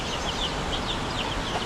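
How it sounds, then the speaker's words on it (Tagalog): Chicken chicks in a coop, fairly large young birds, give soft repeated high peeps and cheeps over a steady noisy background, continuous and moderately close. "At may mga sisiw po tayo dito. Sisiw ng manok."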